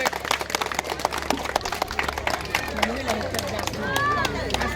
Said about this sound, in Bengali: জোরে হাততালি চলো, জোরে হাততালি চলো।